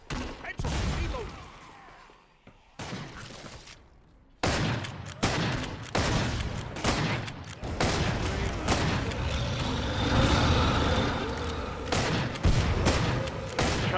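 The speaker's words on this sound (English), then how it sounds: "Can't beat a good explosion." Killing Floor 2 gameplay: bursts of rapid gunfire and sharp blasts come in loud clusters separated by brief lulls, with a voice shouting between the volleys.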